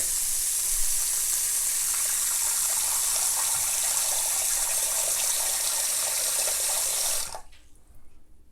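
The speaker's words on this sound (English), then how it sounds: "let's see what happens when we turn the faucet on" Water runs steadily from a sink faucet into a slow, partly clogged drain treated with Drano Max Gel, in a loud, hissing rush, then cuts off abruptly near the end, leaving quiet.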